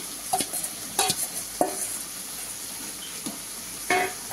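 Prawns go into a simmering curry, giving a steady sizzle and bubbling marked by several sharp stirring scrapes and clanks of a spoon against the pot, close by with no voices.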